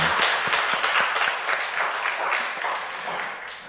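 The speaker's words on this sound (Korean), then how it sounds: "하나님께 영광의 박수하겠습니다." A church congregation at a Korean Sunday worship service claps together in a full round of applause that thins gradually toward the end, with crisp individual claps audible within the wash.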